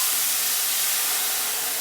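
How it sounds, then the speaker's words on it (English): A loud, steady hiss of sizzling liquid filling the whole moment, close and continuous, as a cup of water hits a very hot pot while making Spanish rice. "I know it's sizzling a lot"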